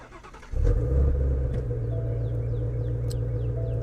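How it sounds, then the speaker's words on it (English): A Ford Mustang GT350 engine cranks briefly and then catches, settling at once into a deep, steady idle rumble that stays close and even, with a few faint chirps over it. "let's hear this thing start up real quick"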